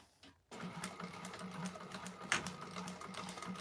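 Sewing machine back stitching an Annette bag exterior at stitch length 4, a close steady run of rapid needle strokes that starts abruptly after a short pause and continues to the end.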